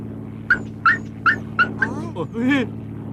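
A dog in the 1973 Japanese TV series Jumborg Ace gives five short, sharp yipping barks in quick succession, followed by whiny whimpering noises, close and fairly loud.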